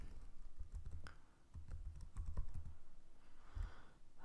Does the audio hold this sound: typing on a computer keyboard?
yes